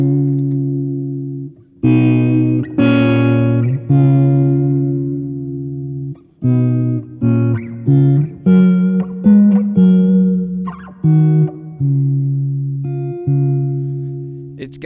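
Electric guitar notes and chords through a reverb pedal on a worship pedalboard ring out with lush reverb, each struck note sustaining and decaying smoothly into a spacious wash.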